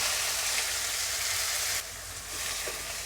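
Finely chopped medium onions fry in hot oil in a pan with a loud, steady sizzle that dips briefly and then continues, without any talk over it.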